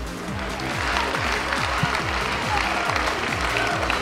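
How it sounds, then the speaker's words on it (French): Audience applause at the Stunfest 2013 Super Street Fighter IV AE 2012 grand final, a loud sustained wash of clapping from a large crowd under a repeating low electronic tone. "un tonnerre d'applaudissements."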